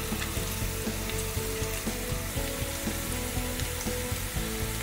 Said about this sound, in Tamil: அப்புறம் இந்த மிளகாய், கருவேப்பிலை, இதை ஒரு தடவை வதக்கிட்டு நம்ம எடுத்து வச்சுருக்கிற மஞ்சத்தூளையும் சேர்த்துக்கலாம். இதை நல்லா வதக்கிக்கோங்க.